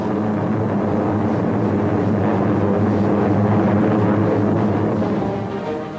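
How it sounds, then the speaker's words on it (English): Carrier planes flying overhead a World War II naval fleet, a dense, steady engine drone that holds loud throughout and eases off slightly at the end. "And carrier planes fill the skies overhead."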